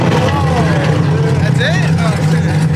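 An Audi R8 engine idles loud and close with a deep steady exhaust drone and slight revving swells, while people talk nearby over the throbbing low rumble.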